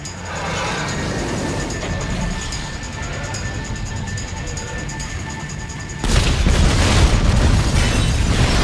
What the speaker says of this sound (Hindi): हम यहाँ पे उनका पूरा का पूरा बेस उड़ा रहे हैं